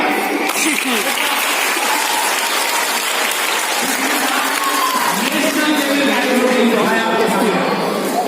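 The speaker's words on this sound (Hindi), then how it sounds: "चलो जाओ सभी लोग, तालियां।" Loud, dense clapping from a crowd at a stage hypnotism show, sustained and even throughout, with voices chattering underneath and a few speech-like tones near the end.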